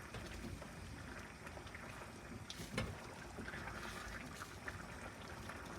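Chicken risotto cooking in a pan after ladles of stock are added, a soft continuous bubbling and simmering hiss heard close but at low volume, with no talking.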